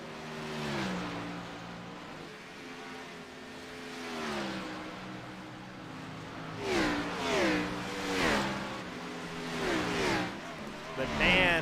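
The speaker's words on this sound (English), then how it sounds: "The number 93 machine of Isaac Wilson coming out of pit lane with a fresh race car" A racing video game race car leaving the pit lane, its engine revving in repeated rising sweeps that grow louder toward the end, with a commentator talking throughout.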